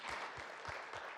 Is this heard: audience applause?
yes